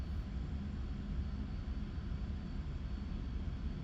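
An SU-25 ground-attack jet flying low in the DCS flight simulator: a steady, faint engine rumble and rushing air that holds the same level throughout, with no voices.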